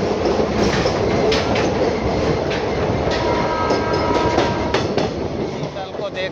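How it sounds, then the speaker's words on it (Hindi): The Prayagraj Sangam Express rolls through a curve with a loud, close rumble of rail noise, rhythmic clickety-clack from the wheels and a thin metallic wheel squeal rising in the later part. "यहाँ अपनी ट्रेन शानदार कर्व लेते हुए"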